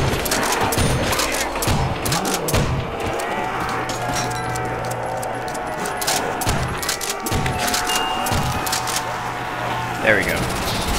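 Steady bursts of Thompson and PPSh submachine gun fire in World at War Zombies, repeated rhythmic volleys under game noise and groaning, with someone talking over parts of it.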